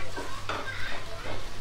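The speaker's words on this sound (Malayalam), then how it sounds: "അതൊന്ന് നമുക്ക് ഇനിയൊന്ന് പച്ചമണം മാറുന്നിടം വരെ നന്നായിട്ടൊന്ന് മൂപ്പിച്ചെടുക്കാം." Ground chilli, tomato and garlic masala paste fries in a pan for chilli paneer, a soft sizzle with a few spoon-scraping stirs, close and fairly quiet.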